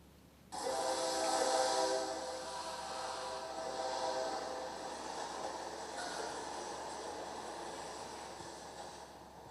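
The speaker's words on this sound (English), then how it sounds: "The L train sounds like the wind" An elevated L train rumbles past steadily with a broad roaring, wind-like wash of noise that swells at the start and holds, fairly loud and continuous.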